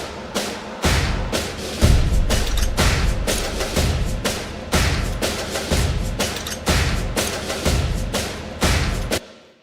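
Produced beat built from a stomp and clap with layered percussion and a big delayed impact: loud, evenly spaced booming hits with bright crack-like tails repeat steadily across the clip, ending in a sudden cutoff.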